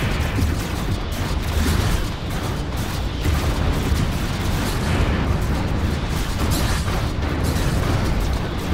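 Missile explosions in the space strategy game Stellaris during a fleet battle against battleships: a dense, continuous roar of overlapping blasts and booms, loud and steady throughout with no pauses.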